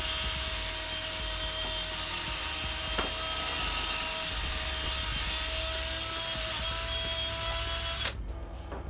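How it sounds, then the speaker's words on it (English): A steady mechanical whir runs loudly throughout as a power drill cleans out a car suspension bushing bore, then cuts off abruptly near the end. "I just throw it in my drill, get back in here,"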